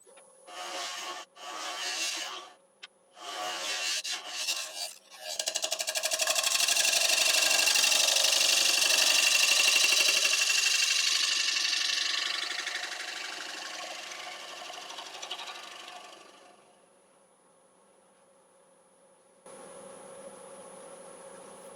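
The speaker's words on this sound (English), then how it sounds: "So I might just use my negative rake scraper now on the bottom" A lathe hums while a negative rake scraper cuts the bottom of a spinning live-edge walnut bowl with a harsh, steady rasp, followed by the motor running on alone.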